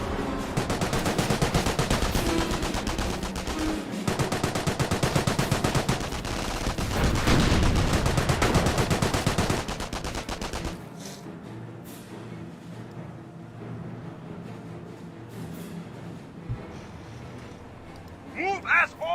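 Rapid bursts of video game gunfire, machine-gun and rifle shots crackling densely for about ten seconds amid soldiers' shouted commands, then fading to quieter combat ambience with scattered distant shots.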